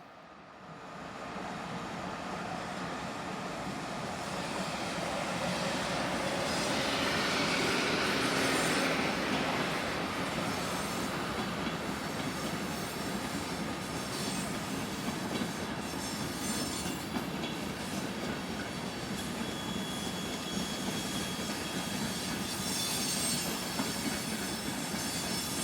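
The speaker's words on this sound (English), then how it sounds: "Long-distance passenger trains are powered by Class 1216 Taurus electrics, such as 1216-005 seen arriving with this southbound working" A Class 1216 Taurus electric locomotive arrives hauling a southbound long-distance passenger train from München to Bologna, a broad rushing roar that swells, peaks and stays loud and steady, with wheel squeal and faint rhythmic clatter.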